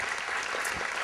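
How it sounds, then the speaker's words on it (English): A room of people at an El Monte awards recognition ceremony claps steadily in a brief, faint burst of applause with no talk over it. "Let's give her a warm round of applause."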